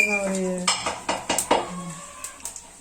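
Beef curry stirred in a metal pot, a handful of sharp spoon-on-pot clinks and scrapes in an uneven rhythm, close and clear, with a short whistle-like voice at the start.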